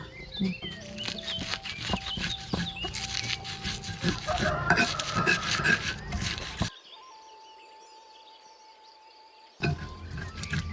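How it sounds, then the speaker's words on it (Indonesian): Spices being ground with a stone mortar and pestle (ulek) for sambal oseng with eggplant and egg, with salt added: repeated scraping, rubbing and tapping strokes, fairly close, stopping for a quiet stretch before resuming briefly. "Saiki arep ngulek bumbune Lor."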